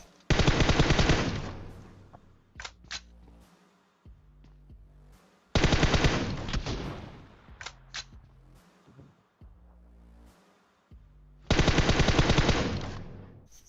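Automatic gunfire in PUBG during a 16-versus-squad match, with three loud sustained bursts of rapid shots separated by quieter gaps holding a few isolated single shots and low rumbling game ambience.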